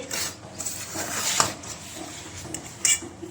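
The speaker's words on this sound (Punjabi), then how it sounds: "ਹਲਕੇ ਹਲਕੇ ਇਹਦੇ ਨਾਲ ਕਿਸੇ ਚਮਚ ਨਾਲ ਤੇ ਰਲਾ ਕੇ ਆਪਾਂ ਇਹਨੂੰ ਰੱਖ ਲਾਂਗੇ" A spoon gently mixes mango murabba in a metal vessel, giving soft scraping with a few light clinks, one sharper clink about midway and another toward the end, close and clear, no voices.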